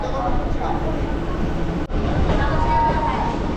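A local train at Howrah station, bound for Digha, rumbling with a steady dense roar and clatter throughout, one brief dip midway, heard from inside the carriage with no clear talk.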